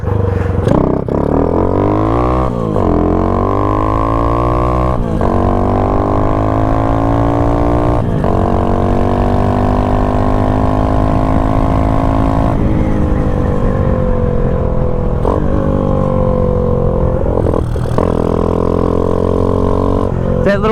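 A 1972 Honda Chaly motorcycle engine runs steadily up close with a brief carburetor hesitation miss, its tone rising and falling slightly through repeated revs over about twenty seconds, with no one talking.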